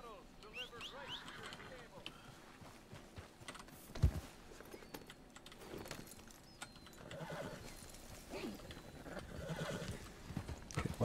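Steady clip-clop of hooves with repeated horse neighs and whinnies in the video game Red Dead Redemption 2, mixed with keyboard tapping and a voice talking over the top.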